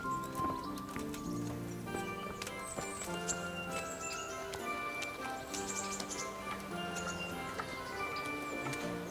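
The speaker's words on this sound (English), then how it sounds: "Get your horses mounted up and let's ride out." Horses riding out in the Kingdom Come Deliverance video game: steady, soft clip-clop hoofbeats and light tack rattles under a continuous musical score, fairly faint and even throughout.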